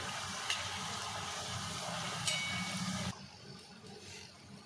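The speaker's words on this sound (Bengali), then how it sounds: "আমি আরও একটা ব্যাচে পাপড়ি ভেজে নিচ্ছি" Papri dough crisps deep-frying in oil, a steady bubbling sizzle with a couple of sharp crackles that drops to a quieter hiss partway through, no talk.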